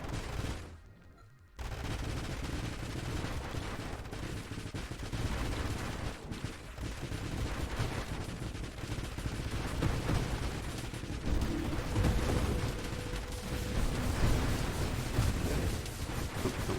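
In the video game Nova Drift, constant rumbling blasts and rapid gunfire-like bursts roll on without pause after a brief quiet start, a dense, loud battle din.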